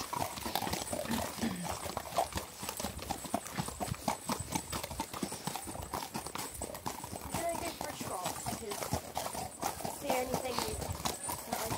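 Hooves of a horse clip-clopping steadily while being ridden over hard ground, a rapid continuous rhythm close to the microphone, with people talking over it.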